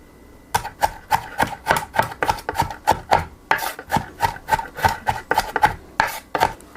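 Vegetables being sliced thinly with a knife on a cutting board: a fast, steady run of crisp chopping taps, close and clear, with a brief pause partway through.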